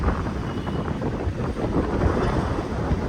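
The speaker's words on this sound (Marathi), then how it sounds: "पाऊस सुरू झाला" Rain driven by wind pours down outside a home, a steady, loud broadband hiss and wash that holds evenly without pause.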